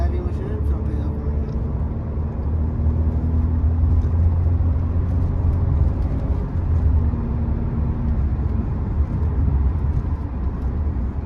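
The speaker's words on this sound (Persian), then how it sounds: "بعد مرسدس بنزم صداش یه صدای خاصیه من توی بقیه ماشین نمیتونم پیدا کنم" A Mercedes-Benz C300 Cabriolet cruises with a low, steady engine rumble and road noise from inside the cabin while someone talks over it.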